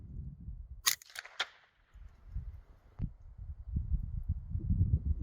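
A Ruger 10/22 rifle fires with a sharp crack followed by quick echoing snaps, and then a fainter click, all heard outdoors against a low rumble of wind.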